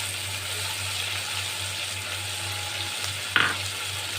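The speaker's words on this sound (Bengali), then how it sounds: "পেঁয়াজটার সঙ্গে চিংড়ি মাছটা আমি একটু ভালো করে আগে ভেজে নেব" Shrimp and chopped onion fry together in a pan for Bengali lau chingri, giving a steady close sizzle with a low hum beneath and a brief louder clatter near the end.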